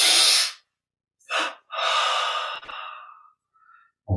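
Deep breathing during guided Kriya Yoga meditation: a long loud inhale, then a short breath and a longer drawn-out one with a faint click, close to the mic and with no talking.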